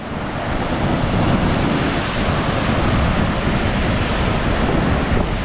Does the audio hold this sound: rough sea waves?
yes